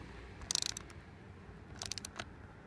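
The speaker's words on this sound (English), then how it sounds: "I'm going to use an adjustable wrench to hold it here in the front," A wrench ratchets as a nut is tightened on a Cosco hand truck wheel: two quick bursts of fast, close metallic clicks about a second apart, with a few softer clicks after, in a quiet room.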